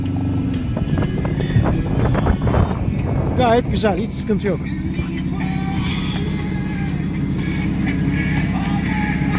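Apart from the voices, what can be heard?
boat outboard motor running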